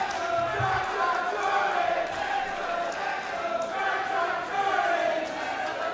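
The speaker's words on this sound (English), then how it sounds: "And you can hear the crowd." Wrestling crowd at a live ringside event, a steady dense murmur of many voices with rising swells of cheering, continuous and fairly loud throughout.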